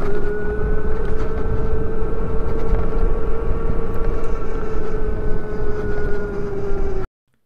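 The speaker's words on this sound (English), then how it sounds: "the sound of a light rub from the brakes on the rotors, and an electric whine" A steady electric whine from a premium electric motorcycle's motor holds an even pitch over a constant rumbling drone, with a light brake rub on the rotors, close and continuous for about seven seconds before cutting off abruptly.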